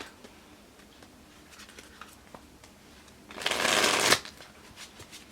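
A deck of Wildwood Tarot and oracle cards is shuffled in one loud, dense riffling burst lasting under a second, following faint handling ticks against a quiet background.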